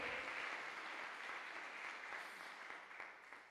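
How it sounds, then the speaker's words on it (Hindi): A congregation claps loudly for Jesus during a Hindi-English sermon, a dense sustained burst of applause that slowly tapers off, with no voices over it. "एक बड़ी जोरदार ताली बजाएंगे यीशु मसीह के लिए।"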